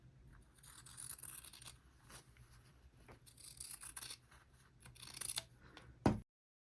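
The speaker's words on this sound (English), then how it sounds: "You can use a rotary cutter or your scissors." Repeated snips and crisp scraping of scissors cutting through fabric, close and fairly quiet, ending with a sharp final cut.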